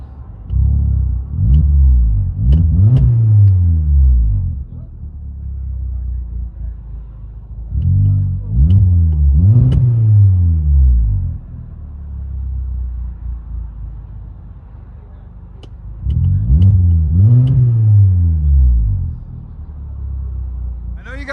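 2014 Hyundai Santa Fe Sport with a muffler delete, heard from inside the cabin as three loud, deep revving bursts that swell and fall, with a low idle rumble in the gaps.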